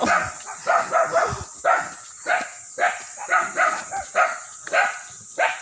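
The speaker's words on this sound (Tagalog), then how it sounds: "Ingay ng aso." A dog barks repeatedly in short, sharp bursts at a steady pace, fairly close, with a few quieter yips mixed in.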